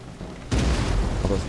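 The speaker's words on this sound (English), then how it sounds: "Oh, now the cannons are firing." Cannons fire in the video game Empire: Total War in a sudden heavy boom, followed by sustained rumbling and crackling blasts.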